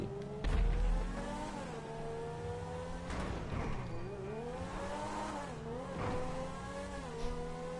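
A video game car engine revs and surges continuously, its pitch rising and falling through gear changes, loud and up close with no one speaking.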